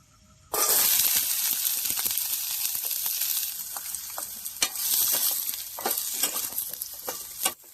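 Hot oil hisses and crackles loudly in a pan at a riverside night campsite, ready for chow mein, bursting in abruptly after a quiet moment and continuing as a dense, close sizzle with scattered pops.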